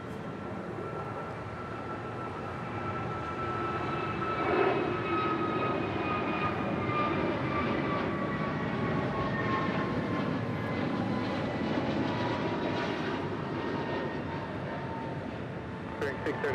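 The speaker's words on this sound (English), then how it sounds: "Alaska Airlines Flight 440 heading to Cancun, Mexico on an A321neo" An Alaska Airlines Airbus A321neo departs Los Angeles International Airport with a broad, steady engine roar and a rising whine. The sound swells slightly midway, and a voice is heard faintly under the noise.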